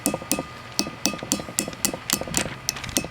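A new front brake seal on a Chevrolet C10 truck is lightly tapped into place with a hammer, giving a quick, close series of about a dozen crisp taps in an uneven rhythm.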